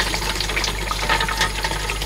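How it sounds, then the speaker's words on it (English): Water and ice cubes spill from the basket of an automatic ice cube machine into the section below, a steady close splashing and trickling wash with faint rattles, no voices. "the basket is dropping the water and the ice cubes down into the next section"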